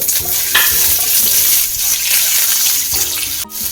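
Urad dal, raw rice, dried red chillies and green chillies fry in a hot pan for a leafy thoran, a loud, close, continuous sizzle with scraping stirs throughout.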